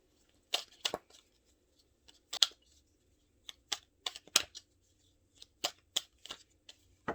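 Tarot cards are cut and laid out on a table in a series of sharp, quiet flicks and slaps, arriving in scattered clusters with short pauses between them.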